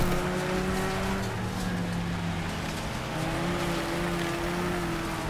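A race car in the demolition racing game Wreckfest drones with a steady engine tone whose pitch shifts as it accelerates and brakes, with faint tire squeal mixed in and no talking.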